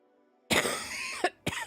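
A person coughs hard three times in quick succession, close and loud, with a short gap before the last cough and nothing else in the background.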